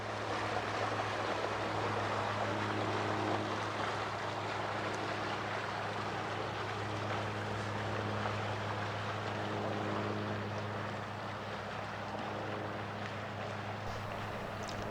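A boat travels downstream on a river, heard as a steady low motor drone under running water and light wind noise, faint and continuous throughout with no talking.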